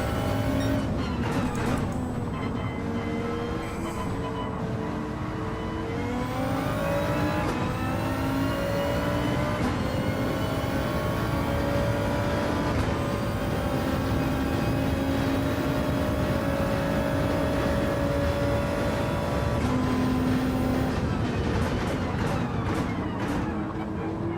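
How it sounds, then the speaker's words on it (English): A Porsche race car engine screams around Brands Hatch in Gran Turismo 7, loud and close, with rising and falling revs through gear changes and sustained high-pitched howling throughout. "I think what I might finish off with is a short arcade race at Brands Hatch, maybe in the Porsche."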